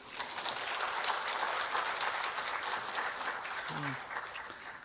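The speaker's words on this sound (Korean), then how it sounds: "참가하신 여러분의 큰 박수와 함께 본 토론을 시작하도록 하겠습니다" Audience applause opening a forum on AI in future education, a steady wash of many hands clapping that fills the space evenly for about five seconds, with a brief murmur of voices near the end.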